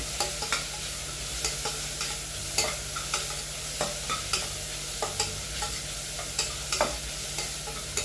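Garlic cloves and green chilies frying in oil in a pan, giving a steady close sizzle broken by regular scraping taps of a spoon stirring against the metal, with no talk.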